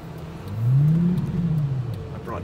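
A Lamborghini engine revs up with a rising, sustained roar that holds steady for a couple of seconds, loud and close.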